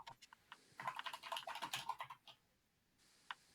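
Quiet computer keyboard typing heard from a distance during an online Blood on the Clocktower game, a quick burst of clustered keystrokes followed by a pause and a couple of isolated taps.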